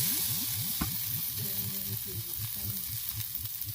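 Ahi tuna sears in a hot pan during campervan cooking, giving a steady bright sizzle with rapid crackling spits and a brief clatter partway through.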